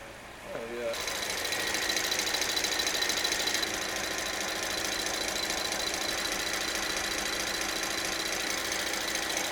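A Rolls-Royce engine idles steadily at close range with an even mechanical tick and hum, starting after a brief moment of voices and continuing unchanged throughout.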